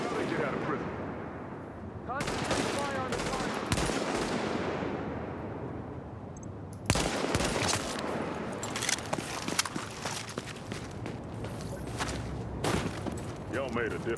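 Sniper rifles and other gunfire crack in a video game battle, sharp shots landing at irregular intervals over a constant rumbling background, with a voice talking over parts of it.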